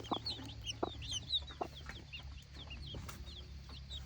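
A mother hen clucks softly near a brood of many newly hatched chicks, whose high peeping chirps repeat continuously over a low background hum.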